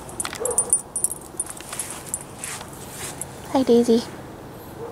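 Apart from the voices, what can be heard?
dog whimpering and barking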